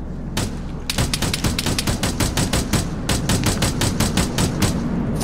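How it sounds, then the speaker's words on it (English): Rapid automatic gunfire from the Arma 3 video game runs as long continuous bursts of dense shots, loud and close, with no speech. "I can hear you shoot."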